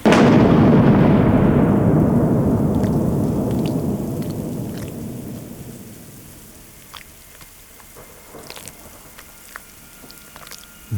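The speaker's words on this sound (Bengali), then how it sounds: "বৃষ্টি তখনও এক নাগারে চলছে" A long roll of thunder slowly fades out, leaving steady rainfall and scattered drips.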